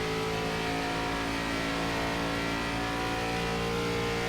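ARCA stock cars race in iRacing at Charlotte, several engines droning together in a loud, steady, high-pitched roar with layered tonal whine, sustained throughout as cars run side by side.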